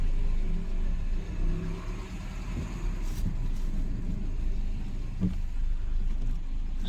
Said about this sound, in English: So it is idling, got the engine management light on.